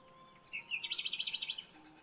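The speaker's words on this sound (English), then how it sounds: "They're singing and laughing as kookaburras do." Kookaburras in a bush setting give a quick rhythmic run of bright, chattering calls that rise into a laughing burst of about a dozen pulses, fairly close and clear, with no talking.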